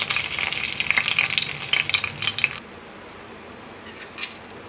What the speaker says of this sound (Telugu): ఇప్పుడు ఎండుమిర్చి వేసుకున్నామండి.